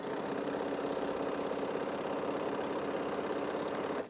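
A sewing machine hums steadily while stitching fabric scraps together at random, a continuous even motor whir held for several seconds before stopping abruptly, with no talking.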